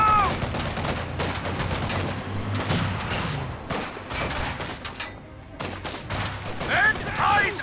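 Rattling gunfire from a Company of Heroes 2 battle at Essen Steelworks, with dense bursts and volleys running throughout, a mix of near and distant shots, while game voices call out over the fighting.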